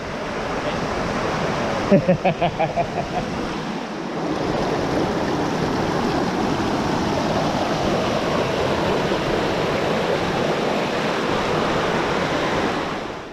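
A big mountain creek pours out of an opening, a loud steady broadband rush of flowing water up close, with a brief burst of a voice briefly rising over it near the start.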